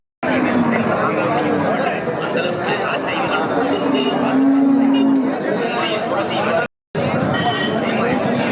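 Cattle at the bustling Melapalayam cattle market, with occasional lowing and animal noise under a constant babble of crowd chatter and nearby talk, close and loud throughout.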